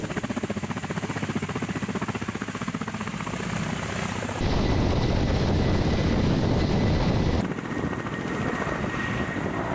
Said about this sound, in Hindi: रूस के K-52 अटैक हेलीकॉप्टर ने यूक्रेन पर जबरदस्त बमबारी और गोलीबारी की है।